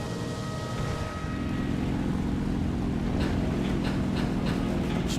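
Fighter aircraft engine in War Thunder drones loudly and steadily, the pitch and throttle rising partway through, with a few faint clicks over the top and no talking.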